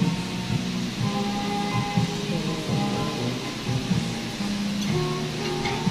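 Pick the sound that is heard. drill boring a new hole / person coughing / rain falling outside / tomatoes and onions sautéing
rain falling outside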